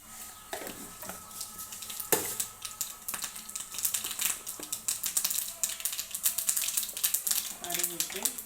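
Mustard seeds spluttering and popping in hot oil while cooking sambar, a close, irregular crackle of sharp pops over a steady sizzle, with a voice talking intermittently.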